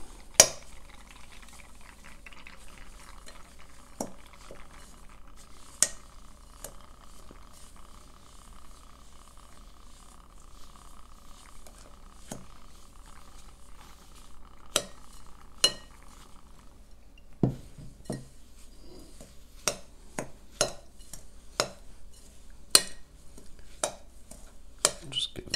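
Artichoke stuffing mixed with extra virgin olive oil is stirred in a bowl, a spoon clinking and scraping intermittently against the sides, with sharp taps growing more frequent toward the end over a faint background hum.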